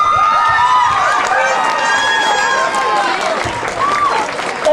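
Crowd applause and cheering for six candidates at a small-town Miss Gibbon coronation pageant, loud continuous clapping with whoops and shouts on top, close and full throughout.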